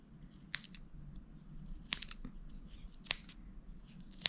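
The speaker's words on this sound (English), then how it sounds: "we're going to cut the threads on the other side" Scissors snip knitting threads on the back of a knitted square, four sharp, isolated cuts spaced a second or so apart over a quiet background.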